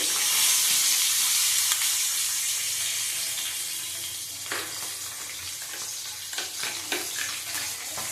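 Mustard seeds hit hot oil in a pan and sizzle loudly with a broad crackle, easing slightly after a few seconds, with sharp pops and spatters scattered through the later part.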